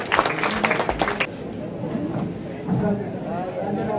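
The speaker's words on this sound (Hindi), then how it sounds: "जोरदार तालियां" A short burst of applause at a school Independence Day event rattles for about a second, then fades as a voice carries on speaking over a murmuring crowd.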